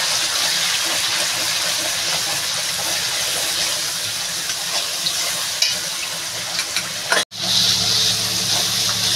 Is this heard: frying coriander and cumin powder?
yes